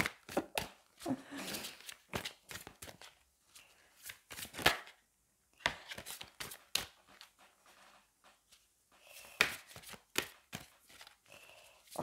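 A deck of playing cards being shuffled by hand in a series of quick riffling bursts with short pauses between them, close and fairly quiet, with no one talking.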